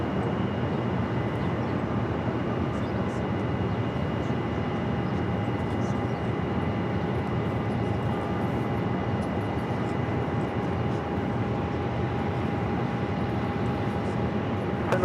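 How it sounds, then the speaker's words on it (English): Low, steady engine rumble and whine from a JetBlue airliner pushing back at Phoenix Sky Harbor airport, distant and continuous with a faint high tone running underneath. "And JetBlue now pushing it back."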